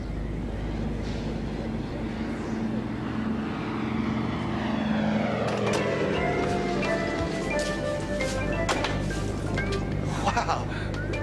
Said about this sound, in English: This is a plane. The sound of it's flying low.